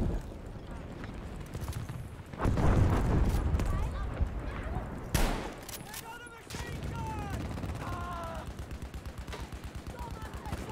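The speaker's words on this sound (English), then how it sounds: "Actually, no, I wanna fuck that vehicle up. Anti aircraft gun." An anti-aircraft gun in the Battlefield V shooter fires in heavy bursts amid battlefield noise, with voices talking over the gunfire.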